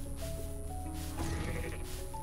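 Sheep bleat in the video game Goat Simulator, a few wavering cries heard over a steady game soundscape with a constant hum and no voices.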